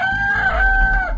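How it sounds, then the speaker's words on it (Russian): A cybernetic rooster in the game DarkestVille Castle lets out one long, loud cock-a-doodle-doo, a sustained electronic-tinged crow heard up close with no talking over it. "Зачем я создавал кибернетического петуха, если он меня не слушается?"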